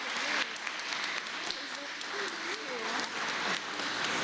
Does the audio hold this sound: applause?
yes